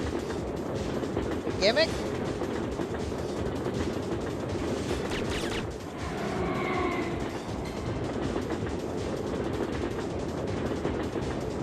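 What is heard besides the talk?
train moving through a tunnel, from video game Syphon Filter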